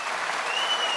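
Audience applause at a Turkish televised arena show, a dense steady wash of clapping throughout with no voices over it.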